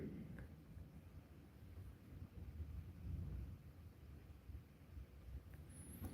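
Rain and wind from a thunderstorm outside a house fill the background, a steady low rumble with broad hiss and no distinct thunderclaps, fairly faint throughout.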